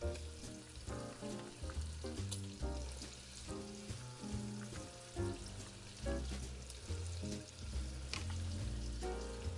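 Vegetables frying in butter in a pot for beer cheddar soup give a steady sizzle, with intermittent stirring knocks and clatter recurring throughout, quiet and close.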